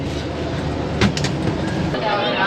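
Tezgam passenger train from Rawalpindi to Lahore rumbles steadily close by, a continuous rolling roar with faint clicking of the wheels, heard alone.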